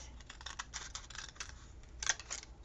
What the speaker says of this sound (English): I'm going to cut it around here with these scissors